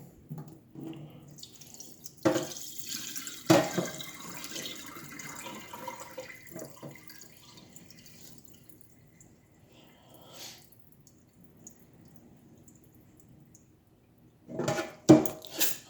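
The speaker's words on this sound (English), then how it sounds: "And now we're going to strain this water off, get as much off as you can" Rinse water strained off basmati rice in a kitchen sink: intermittent splashing and pouring with sharp clatters of a pot or strainer, a quiet lull, then a final burst of pouring and knocking.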